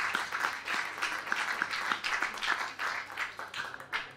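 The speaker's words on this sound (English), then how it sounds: "you deserve another round of applause" A group claps for coding bootcamp students at Le Wagon Casablanca, a fairly quiet but continuous patter of many hands with a loose rhythm throughout.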